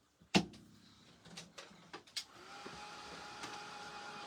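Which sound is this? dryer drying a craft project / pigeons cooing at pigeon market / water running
dryer drying a craft project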